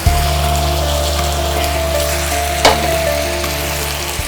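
Chicken pieces fry in a pan with a steady loud sizzle and crackle as gravy is poured in, with one sharp clatter partway through and no talking.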